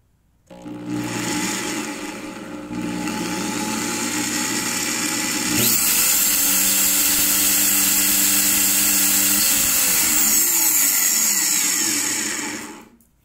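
A power drill bores holes through the plastic housing of a Smart Bro Evoluzn FX ID3 prepaid WiFi modem, a steady whining drone lasting about twelve seconds that grows louder and harsher partway through, close and alone with no talk.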